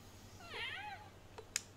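A single soft, drawn-out meow from a cat in the Trails in Cold Steel video game, faint and alone, followed by a couple of light clicks.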